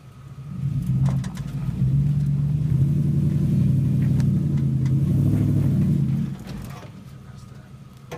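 A 4th-generation Toyota 4Runner on 35-inch tires grinds up a steep hill, its engine a steady loud low rumble for about six seconds before easing off, with faint voices nearby.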